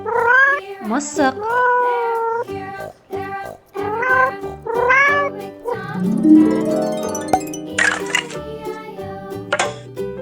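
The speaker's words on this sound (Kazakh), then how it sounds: "Мысық." A cartoon cat meows repeatedly in a children's animal puzzle game, several loud close mewing calls in a row, followed by a chime-like jingle.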